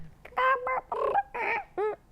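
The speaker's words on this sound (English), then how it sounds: "Chickens communicate with over 30 unique sounds." A chicken clucks in a short run of five or six quick, close throaty calls, clear and alone.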